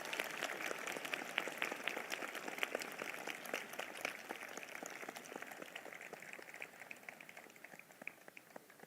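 Congregation at a Sunday evening church prayer meeting clapping hands in thanks, a steady dense patter of many claps lasting throughout, fairly faint and distant.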